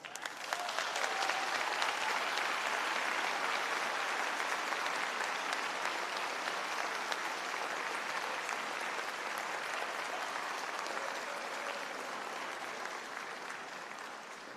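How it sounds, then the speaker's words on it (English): Faculty, family and friends applaud the graduates at a MacEwan convocation ceremony. The sustained, dense crowd applause keeps an even level for the whole stretch and eases off slightly at the very end. "a round of applause"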